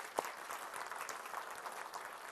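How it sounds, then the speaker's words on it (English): Faint applause rises from a church congregation in Adelaide. Scattered clapping carries steadily through the short stretch at low volume, with one sharper clap near the start. "Let's give them a big round of applause."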